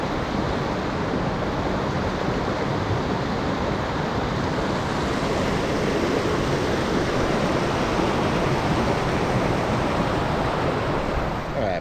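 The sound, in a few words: waterfall at Tokopah Falls, Sequoia National Park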